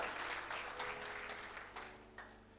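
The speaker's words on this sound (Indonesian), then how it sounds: "Tepuk tangan bagi firman Allah, haleluya" Steady applause from a church congregation at a Christmas service, a dense wash of clapping that fades slightly toward the end, heard from a moderate distance.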